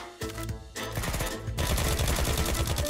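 Gunfire in the Unturned video game: rapid, loud bursts of automatic shots, close and dense, rattling continuously with short breaks and no voices.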